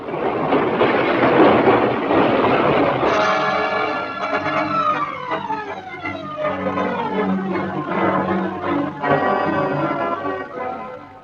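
A loud rumbling rush gives way to the rising and falling whine of a London Underground train's motors and screeching wheels as it moves through Hyde Park Corner station.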